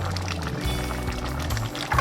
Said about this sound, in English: Wash my pepper.